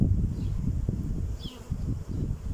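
Honey bees buzz around open hives in an apiary while frames are pulled for May honey extraction, a steady low insect drone close by, joined by brief handling knocks.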